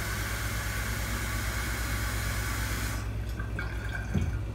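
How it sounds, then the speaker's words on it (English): Tap water runs steadily from a kitchen faucet into a container, a loud, even broadband rush for about three seconds before the flow cuts off and a few faint drips and clinks remain. "So what I'm going to do is fill this, we'll put some tap water in here."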